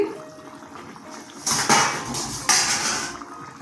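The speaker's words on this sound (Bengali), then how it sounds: "ঢাকনাটা খুলছি" A metal lid comes off a cooking pot of bottle gourd kofta curry with two sharp clanks of metal on metal over a soft, steady bubbling and hiss, heard close up.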